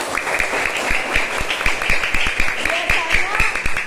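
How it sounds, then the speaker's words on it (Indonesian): Group clapping during an online mentoring session for prospective teachers: a few seconds of uneven, close claps with overlapping voices and laughter throughout. "tepuk tangan buat kita semua"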